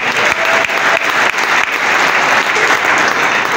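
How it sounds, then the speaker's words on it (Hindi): Loud, dense applause from a large audience at a business closing event, steady clapping filling the whole stretch with a few sharper claps standing out. "मैं चाहूंगा इस संस्था की एक बार जोरदार वाली ताली, जोरदार"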